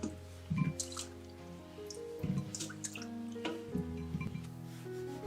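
Washed kumquats drain in a kitchen, giving a few soft, scattered drips and light wet splashes at close range, with no voices.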